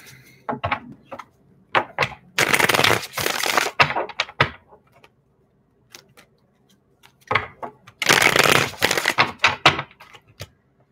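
Tarot cards being shuffled by hand, two bursts of dense riffling separated by scattered taps and card handling, close and fairly loud with quiet gaps between.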